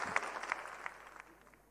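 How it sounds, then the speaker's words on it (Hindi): Faint audience applause welcomes a poet to the stage at a Hindi poetry gathering, with a few distinct claps early on before the clapping gradually tapers away. "जोरदार तालियों से मंच पर स्वागत करती हूँ उनका"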